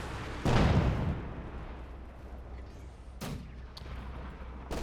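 In a Company of Heroes 2 battle, artillery and mortar fire hits an emplacement: one heavy, booming impact, then rumbling decay and a couple of sharper distant bangs, with no talk.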